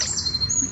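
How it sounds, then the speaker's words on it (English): Birds chirp briefly along the River Medway, a thin high twittering over soft outdoor ambience, moderately near and without any talk. "You can hear the birds, see the fish jumping, but there are no ducks."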